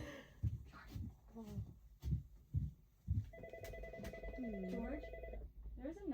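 A phone rings with a steady electronic tone for a couple of seconds, fairly quiet, while people talk and move around nearby.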